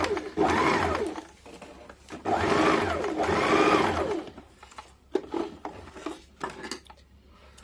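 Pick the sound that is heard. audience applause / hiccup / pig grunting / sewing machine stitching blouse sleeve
sewing machine stitching blouse sleeve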